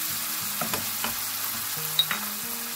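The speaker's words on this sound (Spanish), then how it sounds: "ponemos el pimentón, ponemos el azafrán, todo esto vamos a dejar que se sofría" A tomato sofrito with paprika and saffron sizzles steadily in a pan, a continuous close frying hiss with small stirring bumps, for a rice dish with clams and squid.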